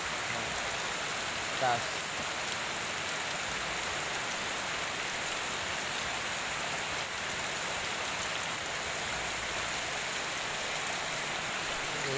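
Heavy rain pours down steadily over a house with a high shelter underneath, a dense, constant hiss throughout with one brief voice speaking near the start.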